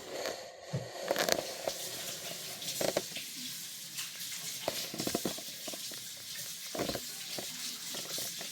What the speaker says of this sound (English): And now I'm going to just rinse my hands.